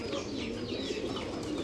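Pet pigeons coo softly and repeatedly at close range, a low rolling murmur with faint chirps behind it.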